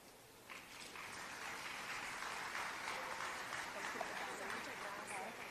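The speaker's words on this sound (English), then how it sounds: "Another round of applause" A dense, continuous wash of applause rises from the audience at a business enterprise linkages event. It sounds even and fairly soft, sustained for several seconds with no single claps standing out.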